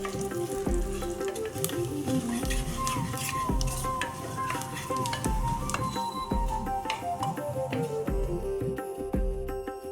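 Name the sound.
dried red chilies and fennel seeds frying in oil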